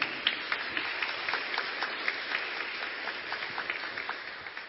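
A church congregation claps together at a priest's urging, a continuous patter of applause at moderate distance, thinning slightly toward the end.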